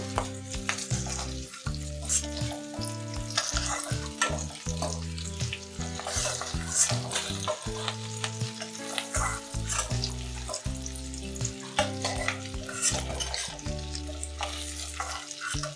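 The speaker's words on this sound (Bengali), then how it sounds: "তেলে ভেজে নেব।" Pointed gourds frying in oil seasoned with salt and turmeric powder in a pan, a continuous near sizzle with repeated stirring and scraping knocks throughout, no voices heard.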